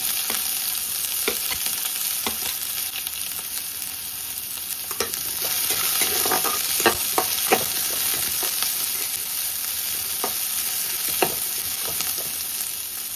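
Onion frying in a pan with cumin and mustard seeds, a continuous bright sizzle with scattered pops and crackles, close and steady throughout, with occasional stirring.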